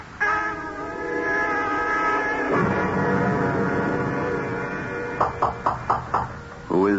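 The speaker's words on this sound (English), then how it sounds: "Paula, please open the door, Dave." Knocking on a door in a 1975 radio drama: five sharp raps near the end follow a sustained train-like drone and music, loud and close.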